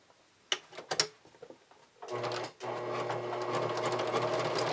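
A sewing machine bastes elastic onto a bra closure, starting after a few clicks and handling noises with a steady, close mechanical whir that runs for a couple of seconds with a short break.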